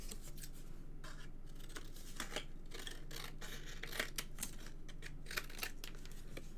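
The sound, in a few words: scissors cutting paper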